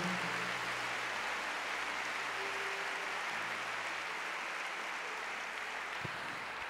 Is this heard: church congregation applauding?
yes